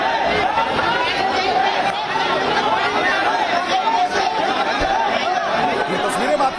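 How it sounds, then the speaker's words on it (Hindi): A dense crowd fills a lane around a house, a steady murmur of many voices chattering at once, with a few chuckles and nearby talk rising out of the continuous babble. "सूर्या का जहां घर था वहां चारों तरफ भीड़ और भीड़ ही नजर आई"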